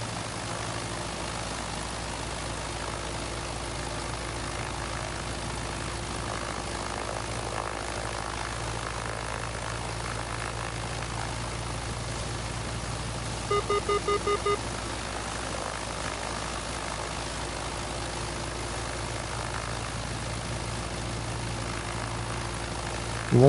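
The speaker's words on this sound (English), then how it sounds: "be ready to start your engine" A propeller aircraft engine in a cargo delivery flight simulator game on PS5 drones steadily at low pitch, with a brief beeping tone midway and a rising surge at the very end.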